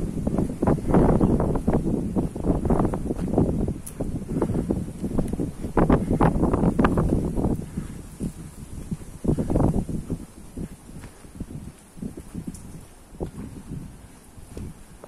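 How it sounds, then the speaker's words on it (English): Gusty wind buffets the microphone with low rumbling bursts on a morning walk in Benidorm, loud at first and easing toward the end, with no talking. "It's a bit windy, but still it's quite nice."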